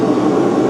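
A file scrapes across hardened knife steel in a steady, loud, skating rasp that lasts under a second with no pauses and no voices.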